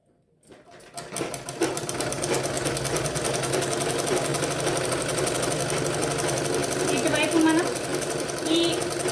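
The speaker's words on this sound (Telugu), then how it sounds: "ఇక్కడ ఒక 1/2 ఇంచ్ మడత పెట్టి ఇలా కుట్టేస్తాం." Sewing machine running steadily while stitching a half-inch folded hem on a blouse, a continuous close mechanical whir with rapid needle rhythm lasting nearly the whole stretch, with a little background noise.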